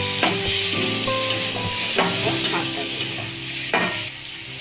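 Eggplant frying with turmeric in a pan for mustard greens, stirred with a few distinct scraping strokes over a steady close sizzle.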